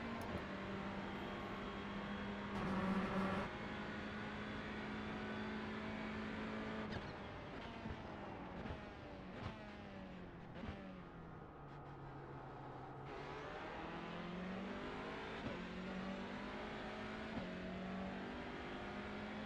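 TCR touring race cars in a racing video game, their engines droning steadily, pitch climbing and dropping through gear changes as they accelerate and lift, faint and continuous with no voices.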